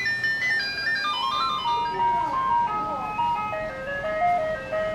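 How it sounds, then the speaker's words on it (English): An ice cream truck plays its tinkling electronic jingle while passing through a residential street, the melody loud and continuous over engine rumble, with people talking nearby. "Bye-bye, ice cream truck."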